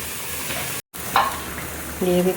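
Fried fish goes into a bubbling eggplant curry, a busy sizzling, stirring clatter broken by a brief gap, then a louder splash and bubbling swell, with a faint tonal sound near the end.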